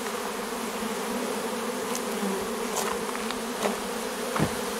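A large honeybee swarm buzzing around a 12-frame Dadant hive outdoors, a dense continuous drone with a few individual bees flying past louder and closer, no speech.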